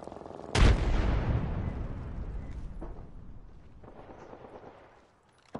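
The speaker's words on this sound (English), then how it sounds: "Throw my grenade out." A frag grenade detonates in Apex Legends with a single loud, close boom that rolls into a long fading rumble, followed by faint distant shots.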